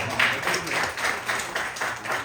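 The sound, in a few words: audience applauding for Yahya at poetry night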